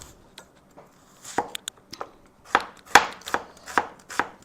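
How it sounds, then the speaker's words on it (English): A knife chops through an onion on a cutting board in a home kitchen, with scattered single strikes at first and then a quicker run of crisp, close chops. No one speaks. "Cut this onion"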